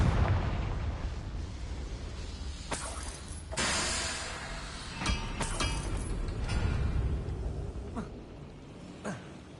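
The Confringo fire spell in Hogwarts Legacy sets off several booming blasts that come in uneven bursts over a low rumbling game background, with no talk.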